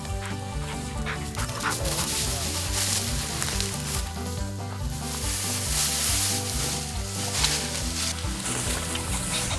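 Young hunting dogs on a pheasant hunt at a South Dakota ranch, with yips, whimpers and barks close by over rustling field noise, and people's voices heard faintly at times.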